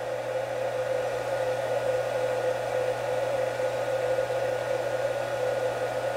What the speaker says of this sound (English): I'm just gonna enter in a simple code or script to make the spindle move